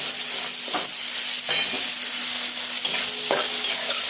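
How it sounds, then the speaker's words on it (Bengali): Ground cumin sizzles in hot oil with chopped onions while cooking rui fish kalia. A steady loud frying hiss runs throughout, broken by a few sharp stirring scrapes, with no voices. "তেলের মধ্যে একটু জিরে দেবো।"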